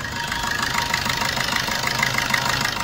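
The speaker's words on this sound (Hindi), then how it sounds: "देख सकते हैं इसका साउंड कार का।" A Suzuki Swift 1.3 diesel engine idles close up in a steady, even chatter with a faint knocking rhythm, and no voices over it.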